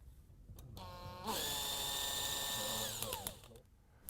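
A power drill bores holes for self-tapping screws during a pergola installation, a close high whine that spins up, holds steady for a second or two and winds down, with faint handling clicks around it.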